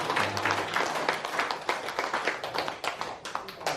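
A church congregation breaks into steady, dense applause to welcome a special guest, many hands clapping together close by for the whole stretch, with only faint voices beneath.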